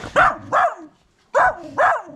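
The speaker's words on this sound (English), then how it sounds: "Oh, a big puppy! And more puppies!" Puppies on a farm bark in two pairs of sharp, close yaps, with a brief quiet gap between the pairs.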